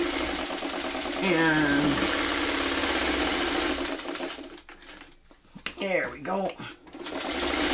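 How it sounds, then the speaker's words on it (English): A sewing machine runs steadily, stay stitching across a patchwork quilt block of a crazy tree design, its buzzing hum loud and close for several seconds before stopping, followed by a short spoken remark. "So before we trim, we always try and do our stay stitching to make sure it all stays in place."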